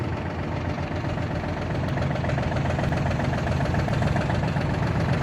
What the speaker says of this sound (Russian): Давайте поднимем фрезу.